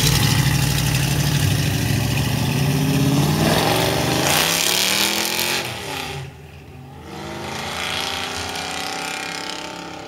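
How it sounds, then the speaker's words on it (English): Car engine freshly swapped into the vehicle revs up and climbs, then drops back toward idle and rises again, a loud close mechanical roar with no talking. "just put a motor in it, testing it out."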